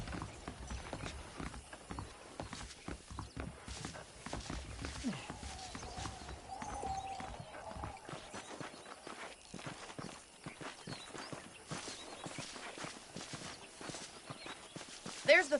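Horse hooves clip-clop steadily in the Red Dead Redemption video game as a horse is ridden at a walk, a soft continuous rhythm of hoofbeats with faint background sounds throughout.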